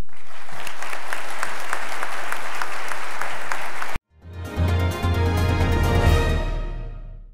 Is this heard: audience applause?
yes